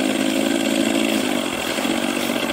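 An Ola Move 3.0 electric scooter motor gives off a steady, loud synthetic hum with layered tonal bands that holds fairly even throughout, with no talking.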